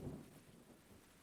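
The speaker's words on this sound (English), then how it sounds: "Rain and thunder." Rain and thunder sound effect played during a tabletop D&D session, a low rumble swelling at the start then fading into a faint, steady rain hiss, quiet and alone.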